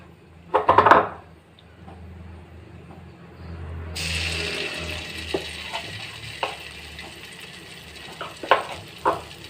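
Flour pakoras frying in a pan of hot oil, a steady close sizzle that swells noticeably partway through, with scattered light clinks and scrapes from stirring.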